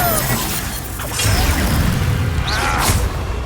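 A spell effect from the Hogwarts Legacy video game, the Accio summoning charm, rings out as a loud, dense magical burst with a shattering, crashing texture and a sweeping whoosh, swelling midway over a continuous rumbling game backdrop.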